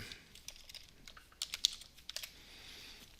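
Quiet keyboard typing with a run of soft, quick keystrokes, getting brisker and louder toward the middle with a few sharper taps, then thinning out. No voices.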